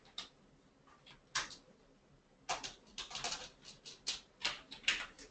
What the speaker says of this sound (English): I'm sure that people can hear my keyboard